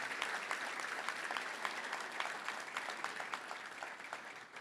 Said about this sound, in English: So I want to give him a round of applause and thank him.